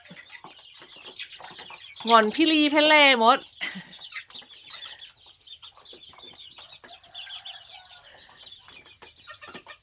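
A chicken lets out a loud, wavering cluck-like call amid faint background chatter and scattered farmyard noises at a backyard flock of village and jungle chickens and bantams; a person speaks briefly.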